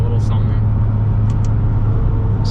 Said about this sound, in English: the Sport exhaust that's on here, I think it's new for 2021. It doesn't entirely change the character of the car, but it does sound good